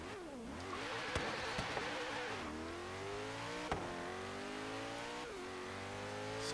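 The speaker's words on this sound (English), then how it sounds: "So not exactly the quickest accelerating car that we've ever had, as you can see." A 2011 Koenigsegg Agera in Forza Horizon 3 accelerates hard, its engine note climbing through rising sweeps with brief dips at each gear shift, a loud steady roar throughout with no talking.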